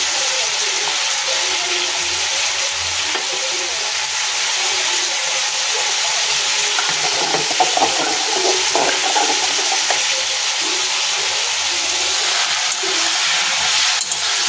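Vegetables frying in a pan for khichuri with ginger and green chilli, giving a continuous hissing sizzle throughout, with faint scrapes and clinks now and then.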